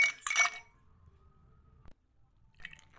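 Ice cubes drop into a glass of homemade lemonade, a quick burst of bright clinks and rattles up front, then a quiet pause and a softer clink of ice settling near the end.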